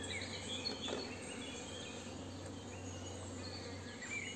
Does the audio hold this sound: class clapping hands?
no